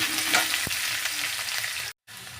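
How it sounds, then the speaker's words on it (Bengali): Sliced onions frying in a pan give a steady, close hiss with a faint clink of a utensil partway through, then a brief cut to silence. "পেঁয়াজ ভাজা হয়ে গিয়েছে"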